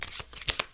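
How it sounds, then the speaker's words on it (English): A Polyantha deck of playing cards is shuffled in a quick riffle, with several sharp fluttering bursts of card snaps packed into less than a second, close and crisp. "So we give these a shuffle"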